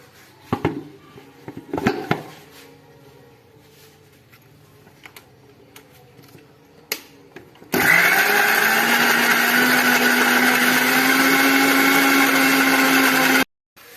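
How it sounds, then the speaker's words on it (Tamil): A few faint clicks and knocks come first, then a kitchen mixer grinder starts abruptly on coconut for chicken gravy. It whirs loud and steady for about six seconds, its pitch dipping slightly as it settles, then cuts off sharply. "இப்ப மிக்சியில அரைச்சி எடுத்துக்கலாம்."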